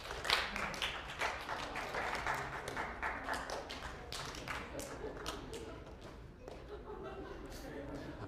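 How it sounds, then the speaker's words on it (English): A lecture-hall audience of students breaks into scattered, uneven clapping that builds into a sustained patter of many hands, heard at moderate distance over murmuring voices. "Could you clap when you see what's different between the two pictures?"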